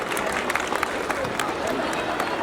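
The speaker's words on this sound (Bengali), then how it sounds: "আমি সকল বেস্ট প্লেয়ারের জন্য একটু জোরে করতালি আশা করছি" Clapping from an audience at a school inter-house annual sports competition prize ceremony, honoring the best players; steady, dense applause blends with crowd murmur and a voice over the noise.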